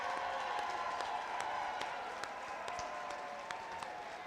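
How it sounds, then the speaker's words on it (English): Sustained applause from an audience honoring staff at a Disability Services Day event at the Minnesota Capitol, steady clapping from a crowd at moderate distance with a few sharper claps standing out. "Let's give them a big round of applause."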